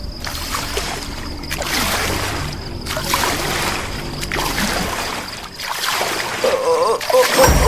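Oars splashing in a river as a boat is rowed, several rhythmic surges of splashing water about a second apart, loud and close, within a Bengali cartoon soundtrack.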